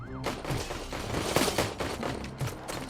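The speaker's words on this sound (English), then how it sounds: "And everyone, stop shooting." Rapid bursts of gunfire fill a firefight in the video game RoboCop: Rogue City, loud and dense shots overlapping one another with booming impacts throughout.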